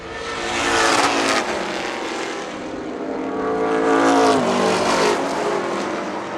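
Pro stock race cars roaring around a track, engines swelling loudly as the field passes close by, fading slightly, then surging again with another loud pass.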